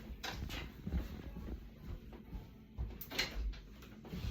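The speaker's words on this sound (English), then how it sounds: "I'm gonna open the door and see what he wants." A door is opened indoors with a few soft knocks and thuds from the handle and frame, spread over a few seconds at modest, close range, with no talking.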